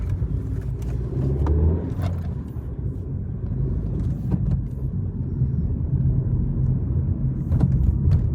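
Car driving steadily along a paved road, a low continuous engine and tyre rumble with a few faint clicks and knocks, recorded from inside the vehicle.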